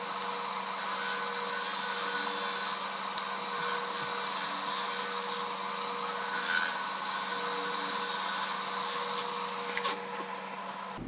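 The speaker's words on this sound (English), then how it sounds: "Maybe try to sand this up some." A power sander works steadily over a resin goblet, a continuous whirring buzz that stays close and even throughout before cutting off near the end.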